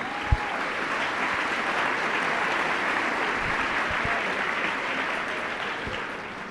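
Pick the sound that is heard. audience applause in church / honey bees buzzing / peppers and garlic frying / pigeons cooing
audience applause in church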